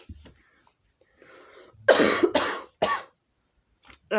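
A person recovering from a cold coughs several times close up, harsh bursts after a short pause, followed by a quick throat-clearing cough.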